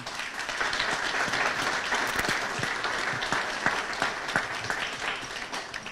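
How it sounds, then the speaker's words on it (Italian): An audience gives a long round of steady applause, dense overlapping claps at an even moderate level from start to finish, with no voices on top. "meritano un grande applauso"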